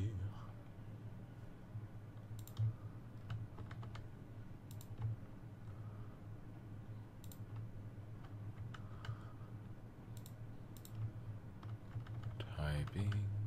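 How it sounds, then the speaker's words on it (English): Fingers tap quickly on a computer keyboard during a late-night binaural ASMR livestream, with close, crisp clicks in irregular bursts over a low steady hum. "Typing."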